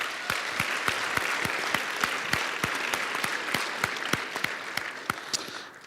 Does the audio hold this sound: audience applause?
yes